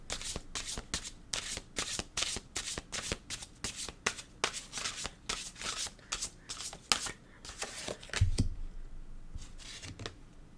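A deck of Shaman oracle cards being shuffled by hand, a fast run of crisp riffling flutters in repeated bursts, close and fairly quiet, with a brief pause and a couple of softer shuffles near the end.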